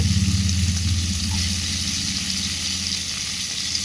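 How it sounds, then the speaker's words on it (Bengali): Garlic cloves and chopped onion frying in oil for a mustard-flower mash with prawns, a steady dense sizzle with a low continuous hum beneath, constant and close throughout; no speech. "রসুনের কোয়াগুলো খুব ভালোভাবে ভেজে নেব রসুনের কোয়ার সাথে আমি পেঁয়াজ কুচিও দিয়ে দিলাম"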